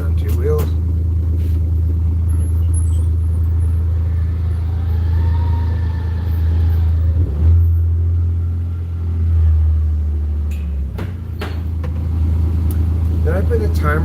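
A four-wheel drive car rumbles with a deep, steady engine note that rises and falls as it revs, close and continuous for the whole stretch, with a voice heard over it.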